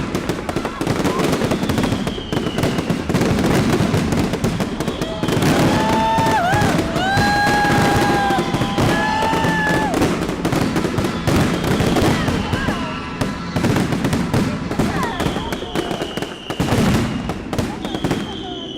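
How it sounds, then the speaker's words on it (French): Bastille Day fireworks fired from the Château des Ducs de Bretagne crackle and pop continuously and loudly, with rising whistles and dense bursts, a crowd faintly audible underneath. "le magnifique feu d'artifice du 14 juillet, tiré du château des Ducs de Bretagne,"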